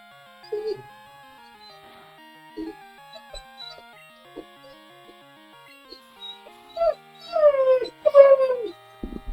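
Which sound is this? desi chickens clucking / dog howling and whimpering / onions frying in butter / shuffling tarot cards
dog howling and whimpering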